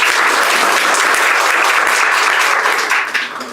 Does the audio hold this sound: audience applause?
yes